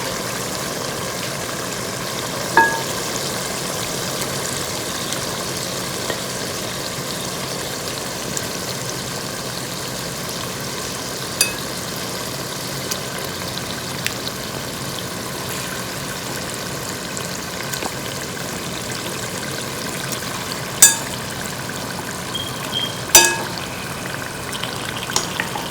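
Mutton sizzles in a pot with roasted spices and yogurt, making a steady, even frying hiss with a few sharp clicks and utensil taps scattered through it.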